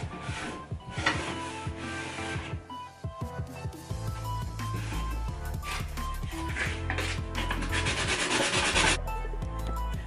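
Damp rag wiped over a freshly sanded wooden cabinet, repeated close rubbing strokes in an uneven rhythm, with faint clinks and light bumps in between.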